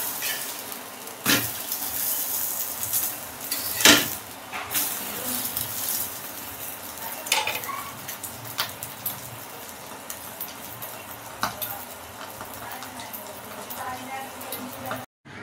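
Egg omelette frying in a hot pan, a steady close sizzle with a few sharper pops and spatters rising over it.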